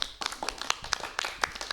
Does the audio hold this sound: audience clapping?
yes